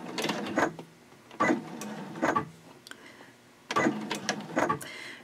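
Short runs of a sewing machine stitching a mini backpack card holder come in four separate bursts, each a second or less, with quiet pauses between them as the work is moved along.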